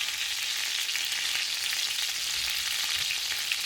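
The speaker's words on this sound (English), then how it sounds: "I've cooked our meatballs on 3 sides so far" Pork meatballs frying in a pan, turned onto their last side, giving a steady, bright, even sizzle throughout with no voices over it.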